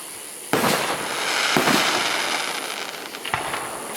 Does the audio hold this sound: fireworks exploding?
yes